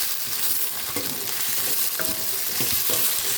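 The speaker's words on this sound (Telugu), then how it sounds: "నూనె పోసి బాగా వేపుకుందాం" Gongura leaves, the native variety, frying and being stirred in oil for a red chilli chutney, giving a steady broad sizzle with a few soft scraping knocks from the spoon.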